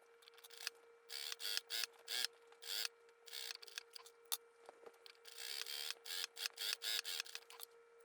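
A sewing machine runs in quick bursts of stitching, stopping and starting repeatedly as it sews two rows of gathering stitches on a two-tone raglan dress, with a steady mechanical whir close by.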